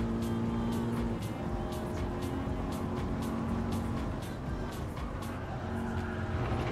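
Ford Mustang engine droning steadily in Gran Turismo 7, heard from a racing wheel setup, with faint repeated clicks or taps over the continuous hum.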